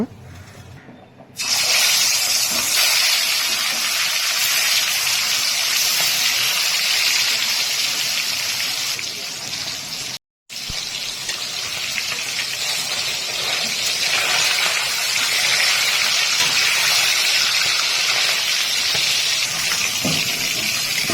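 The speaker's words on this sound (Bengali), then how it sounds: "কড়াইয়ে সরষার তেল দিয়ে তেল গরম হয়ে গেলে এক এক করে মাছ ভেজে নেব" Fish frying in hot mustard oil in a wok, a loud, steady sizzling hiss that starts abruptly and continues with a brief break, close and dense.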